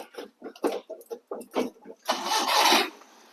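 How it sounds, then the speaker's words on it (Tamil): A 2011 Maruti Suzuki Omni van engine cranks and catches on the first try, a short burst of starter and engine noise following several seconds of someone talking close by. "வண்டி நீங்கள் 10 நாள் 14 நாள் நிப்பாட்டினாலும் ஒரே டிக்கில் வண்டி ஸ்டார்ட் ஆயிரும்."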